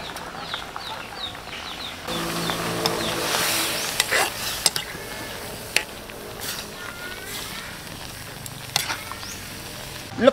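Shrimp and string beans sizzle in a pan for a Filipino ginataang hipon, with a steady soft crackle that swells in the middle, some scraping stirs, and faint bird chirps in the background.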